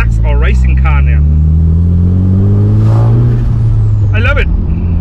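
A Honda CU2 with a turbo engine roars steadily on a dyno, its loud, sustained drone swelling in the middle; a voice can be heard over the engine near the start and end.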